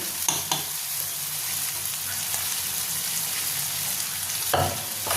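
Ground spices with coriander powder are fried and stirred in a hot pan for a crab curry, giving a steady close sizzle throughout with a few sharper scraping stir strokes near the start and end.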